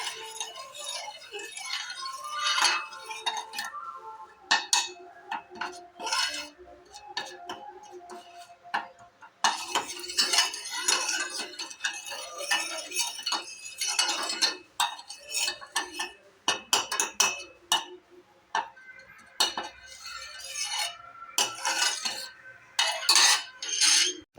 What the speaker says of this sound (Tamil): இது நல்லா கேரமலைஸ் ஆகட்டும். நல்லா மிக்ஸ் பண்ணிக்கோங்க.